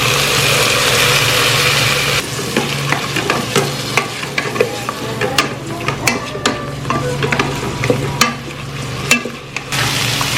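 Curd mixed with sugar goes into frying mutton for yakhni pulao, setting off a loud, steady sizzle with repeated spoon scrapes and clatters against the pot over a constant low hum.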